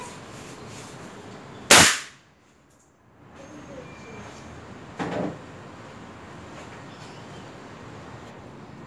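A single sharp, loud gunshot from a CBC Montenegro 6.0 cracks out, followed by quiet and then a fainter thud a few seconds later, with no voices.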